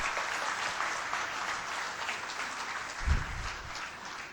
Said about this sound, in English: start off the morning with a very, very big and healthy round of applause for the organizers and everyone else